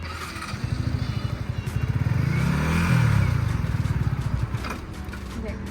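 A Yamaha R15M motorcycle moves off as its clutch is eased out, its close, pulsing engine thump rising to a peak midway and then settling, with talk alongside.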